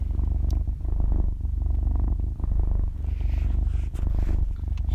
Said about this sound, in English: look at the sleepy little kitty